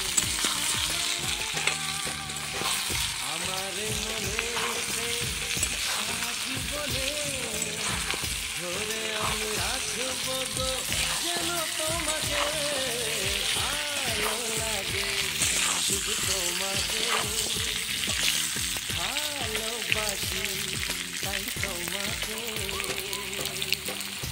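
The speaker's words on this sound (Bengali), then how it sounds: "আলুতেও সামান্য পরিমাণ হলুদ, দিয়ে আলুটাকেও লাল লাল করে ভেজে নেব।" Potato pieces coated with turmeric fry in a pan with a continuous, busy sizzle and crackle while a person talks over the cooking throughout.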